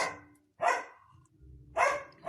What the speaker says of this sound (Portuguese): Ixi, cachorrada.